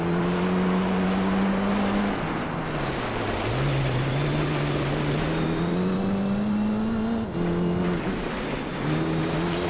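Race car engines in Gran Turismo Concept drone steadily in a loud, continuous whine, the pitch climbing and dipping with gear changes and one brief drop partway through; no talk.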